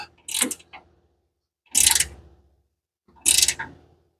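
A wrench ratcheting on a nut of a car steering shaft bolt: three separate short metallic clicking bursts about 1.5 seconds apart, close and sharp.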